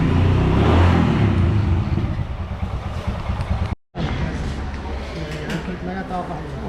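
A motorcycle, just back from its first service, pulls away on a solo ride in India, its engine droning loudly and close before settling to a steady running note, with talk over the sound.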